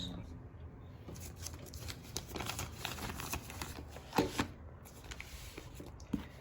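A newly bought thick hardcover puzzle book of Turkish crosswords being opened indoors, with soft page and cover handling sounds, light rustles and a few sharper taps and flips, fairly quiet throughout.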